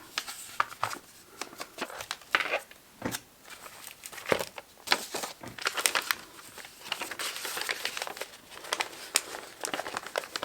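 Paper being folded in half for a junk journal, giving a run of crisp crinkling and crackling bursts, close and fairly soft, with uneven pauses between handlings.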